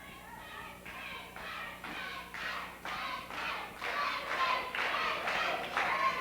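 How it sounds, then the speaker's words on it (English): At a 1996 Southern States Wrestling event, the arena crowd breaks into a rhythmic chant of a wrestler's name. Regular shouted bursts build steadily louder over a constant background murmur. "The crowd starting to chant, Tracy, Tracy, Tracy."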